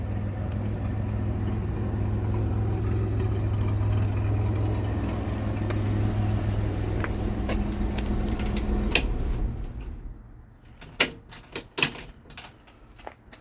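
A 1964 Chevrolet C10 pickup's six-cylinder engine idles with a steady low rumble and no miss for several seconds, then cuts out, leaving a few metallic clicks and jangles.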